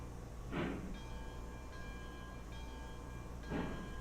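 A small locomotive from the Railroads Online video game runs along its track with a steady low rumble, and two brief louder surges pass near the start and the end.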